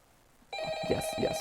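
A telephone starts ringing in a Five Nights at Freddy's night 5 call, an electronic bell trill that cuts in abruptly and continues loud.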